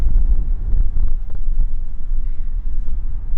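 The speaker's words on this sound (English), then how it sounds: "it's really windy and I hope this is not screwing with my audio" Strong outdoor wind blasts straight into the microphone on hunting land, a loud, low, buffeting rumble that surges and dips without letup.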